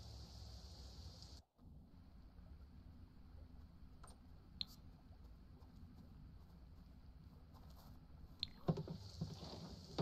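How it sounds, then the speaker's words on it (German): Steady soft rain falls in a video game, a continuous faint hiss of patter with a few small clicks and knocks scattered through it, and no one speaking. "Ja, es regnet schon wieder."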